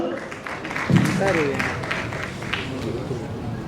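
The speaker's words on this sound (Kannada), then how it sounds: "ನಿಮ್ಮೆಲ್ಲರ ಪ್ರೀತಿಯ ಚಪ್ಪಾಳೆಯೊಂದಿಗೆ ಸ್ವಾಗತಿಸಿ" An audience applauds and cheers as guests are welcomed on stage at a Kannada film trailer launch event, steady clapping running beneath a host's voice.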